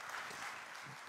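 Brief, faint applause from an audience at a culinary contest, a steady patter of distant clapping lasting about a second.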